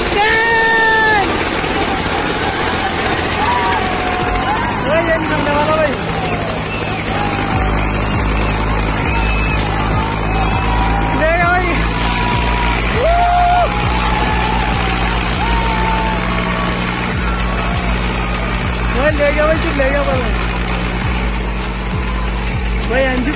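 A Sonalika 40 tractor straining against a double Eicher tractor in a tug-of-war, loud heavy engine drone with rising and falling revs throughout, while people shout and talk nearby.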